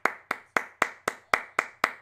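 Hands clap eight times in an even, steady rhythm, each clap crisp and close, with short decaying tails and quiet between them, no voices.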